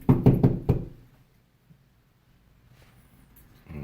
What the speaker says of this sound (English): Okay, we're knocking.